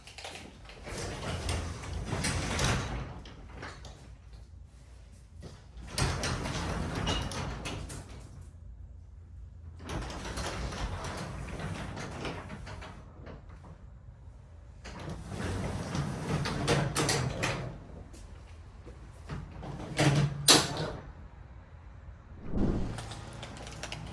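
A garage door, just refitted with reset springs and cables and re-engaged to its opener motor, rumbles and rattles in long bursts of travel with short pauses, steady and moderately close, with no talking.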